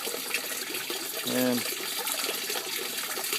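Water flows and gushes steadily through an aquaponics system, a continuous splashing rush with a brief bubbling gurgle partway through and a faint word spoken over it.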